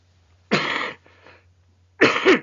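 Two bursts of coughing from a man with a chesty cough cold, a harsh fit followed by a fainter rasp, then another strong cough a second later, close and clear against a quiet indoor background.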